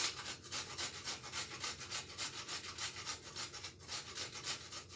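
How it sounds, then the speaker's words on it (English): Whole nutmeg rubbed against a grater for cocoa tea, a steady run of dry rasping strokes in quick rhythm, close and fairly quiet with no talk. "I'm going to grate the nutmeg"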